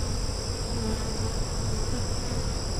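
Honeybees buzz steadily and densely around an open hive during an inspection of a hive split, a constant near drone with no pauses and no voices.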